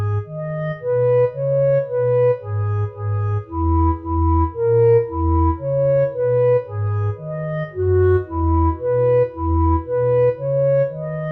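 Music transcribed from the notes painted in Bosch's hell panel, a slow, steady melody of sustained, synthetic-sounding tones over a low repeating bass line, played alone.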